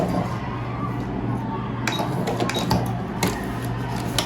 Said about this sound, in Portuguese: E aqui, ó, você vai costurar até você ter encavalado em cima da sua costura anterior